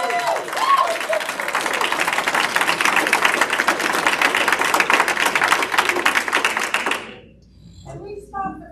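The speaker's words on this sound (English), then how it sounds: "Please stop clapping while somebody is speaking." An audience at a public library meeting claps in a steady, dense burst that stops abruptly near the end, followed by a few faint sounds and a brief voice.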